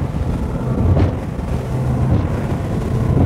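A Ballistic XP80 boat runs under its F300 outboard engine, a steady, loud low roar blended with rushing water and wind buffeting the microphone.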